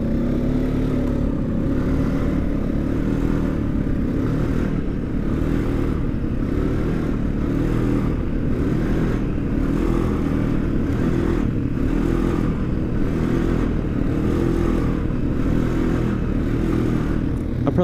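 A quad ATV engine runs loud and close, its revs swelling and falling in a steady repeating pattern of throttle pulses over a continuous rumbling drone.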